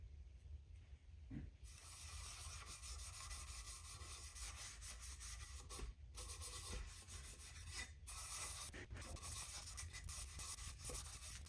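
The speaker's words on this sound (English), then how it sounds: "so I ended up using my sander instead" A power sander works on oak wooden dowels for a side table's legs, giving a continuous abrasive rubbing and rasping with brief pauses, close and steady, with no talking.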